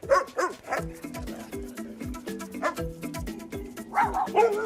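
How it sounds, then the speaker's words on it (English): Dogs bark repeatedly behind a railing, a close rapid series of yipping, whining barks with a few higher yelps near the start and end. "As soon as the dogs bark"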